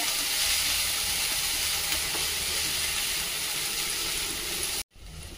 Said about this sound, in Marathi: आणि आता आपण झाकण न ठेवताच याचे छान परतून घेऊया